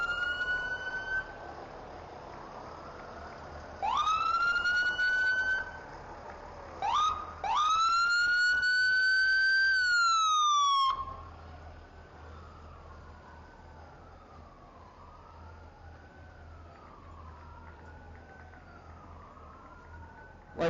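Sirens from the Lee Volunteer Fire Department and Ambulance Squad passing in a hometown Founders Day parade: loud rising and falling wails with short whoops, then a fainter, slower wail trailing off, with no talk over it.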